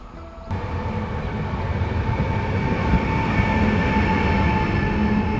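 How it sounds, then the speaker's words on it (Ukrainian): A train rolls through a railway station, its loud steady rumble and rattling wheels starting abruptly and then holding close and even, with no voices. "Оце їде другий поїзд."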